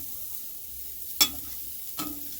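Onion and garlic cooking without oil in a hot pot for Jamaican shrimp pasta, a low steady sizzle broken by two sharp clinks of a spoon against the pot, close by with no talking.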